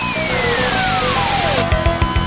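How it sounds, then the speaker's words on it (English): A Final Fantasy Mystic Quest sound effect of a mask being put on: a descending synthetic sweep over busy background music, then a few soft thumps. "that's the sound of putting a mask on"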